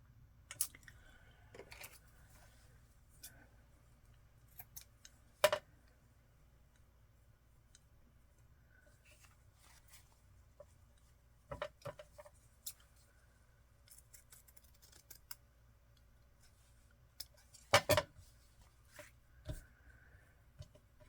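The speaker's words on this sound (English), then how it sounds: "Scissors." Scissors cut material at a haberdashery desk, giving a few sparse, crisp snips spaced several seconds apart, quiet and close against a low hum.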